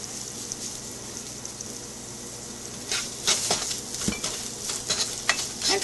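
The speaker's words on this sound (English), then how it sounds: "And fry the onions till they are translucent." Onions salted in a pan fry with a soft crackle, then a spatula starts scraping and stirring in irregular bursts over the steady hiss.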